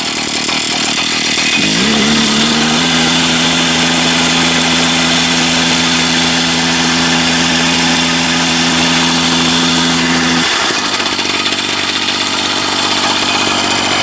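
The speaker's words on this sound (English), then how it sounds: "It's idling a bit high there" Small single-cylinder engine, a Jumping Jack, running loud and close, its idle climbing and holding steady at a raised pitch before dropping back down, a constant buzzing drone throughout.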